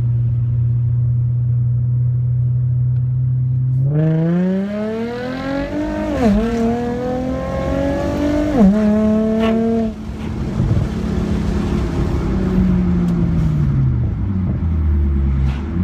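A modded Infiniti G35 idles with a low rumble, then roars through hard acceleration with rising engine pitch and quick shifts, loud and close, before the note drops back to a heavy rumble.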